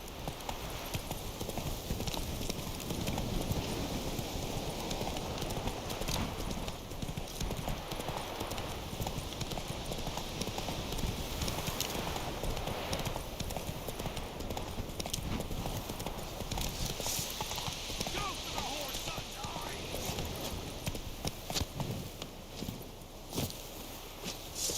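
Roach, the horse in The Witcher 3, clip-clops steadily in a continuous hoofbeat rhythm over soft ground, with rustling and a faint whinny now and then, and brief voices underneath.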